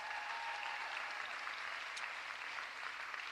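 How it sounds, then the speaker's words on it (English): Applause at Philadelphia's State of the City address, a faint, steady wash of distant clapping from a large audience that continues evenly throughout. "Give her a round of applause."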